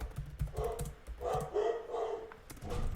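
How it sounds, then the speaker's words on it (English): A pet dog barks indoors in several short, fairly close bursts, with a quieter whimpering tone in between, over faint background tapping. "And that is not the milkman. That is my dog."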